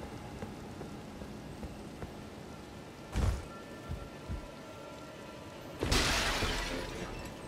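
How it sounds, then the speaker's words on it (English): A clay pot shatters in the Elden Ring video game, heard as two sharp crashing bursts, a smaller one midway and a louder one near the end, over a faint, steady game ambience. "good thing you didn't hear the pot breaking"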